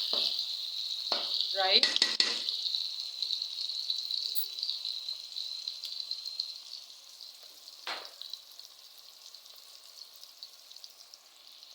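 Chicken pieces for chicken tikka handi fry in a pot with a bright, continuous sizzle that gradually fades, while a spoon stirs and scrapes in bursts near the start and once more later; a brief spoken word is heard.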